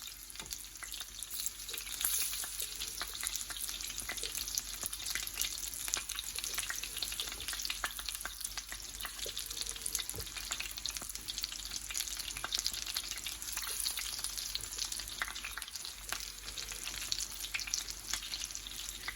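Continuous dense sizzling of plantains frying in a quarter cup of butter in a cast iron skillet, loud and close, with occasional stirring and no talking.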